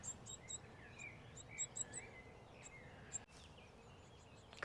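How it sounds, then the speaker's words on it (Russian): Baby birds chirp in a nest, giving faint, high, scattered peeps over a quiet outdoor hush with a soft insect-like hum beneath. "Тут, очевидно, птенчики завелись. Вот они чирикают."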